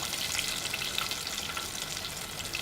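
Chicken pieces for KFC-style crispy fried chicken deep-fry in oil over medium-low heat, giving a steady, even crackling hiss that holds at moderate loudness throughout, with no voices.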